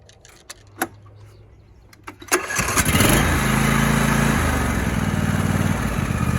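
A John Deere E140 lawn tractor starts after an oil change: a few light clicks and knocks come first, then a short crank as the engine catches. It settles into a loud, steady, close-up drone that carries to the end.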